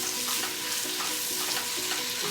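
Two onions sizzle steadily in a pan for a Mexican shrimp and Clamato dish. The frying hiss is continuous and close, with light stirring noises on top and no talking.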